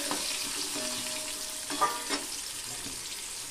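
Mango pieces fry lightly in a pan with turmeric and salt, giving a steady close sizzle with a couple of soft stirring knocks.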